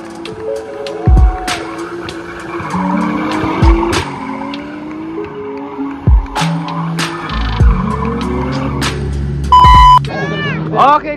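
A drift car, an R34, at a Good Friends Community drift taxi event in Semarang, roaring and revving with repeated tire squeals and skids, loud and close, interleaved with people talking and occasional beeps.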